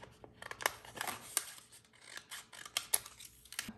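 Scissors trim away excess vinyl from a craft project, giving a few close, quiet snips and rustling scrapes spread irregularly across the moment, with no talking.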